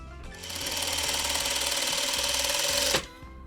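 A sewing machine sews a crumb piece for a Courthouse Steps quilt block. It gives a loud, fast, buzzing rattle for about three seconds, then stops abruptly.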